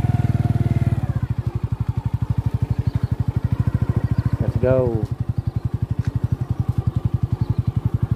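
A motorcycle engine drones steadily and close throughout as the rider travels, with a slight surge midway and a brief spoken phrase over the running engine.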